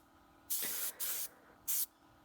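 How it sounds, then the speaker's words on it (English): Three short bursts of hissing spray from a spray gun painting motorcycle parts for a Suzuki U70, each about a third of a second, separated by brief pauses in a quiet room. "So I spray all the parts."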